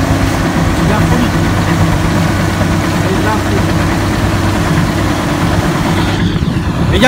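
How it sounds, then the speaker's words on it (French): A tractor engine runs at a steady idle beside a sandy motocross track at Loon-Plage, a loud, close, continuous low drone with a constant throbbing hum throughout. "On monte dans le tracteur."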